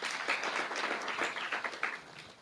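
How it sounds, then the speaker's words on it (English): An audience at a Kenyan freight and warehousing association strategic plan event claps heartily for themselves, a short burst of fairly dense, moderately quiet clapping with uneven bursts. "A heavy clap for yourselves."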